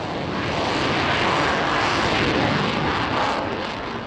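A Eurofighter combat jet roars through a flying display at the Paris Air Show. The engine noise is loud, broad and continuous, a steady blast that fades slightly at the end.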